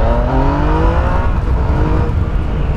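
A Yamaha MT-09 Tracer motorcycle engine revs up close, its pitch climbing steadily as it accelerates and then holding a strong, rough roar.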